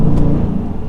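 Exhaust of a 2019 widebody Dodge Challenger R/T Scat Pack with the 485-horsepower naturally aspirated 6.4-liter engine, a loud, close, deep rumbling rev that holds steady for under a second.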